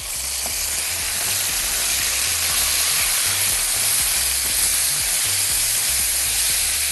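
Chopped onions sizzle and hiss steadily in a hot pan alongside browned chicken, a loud, continuous frying crackle with no talking over it.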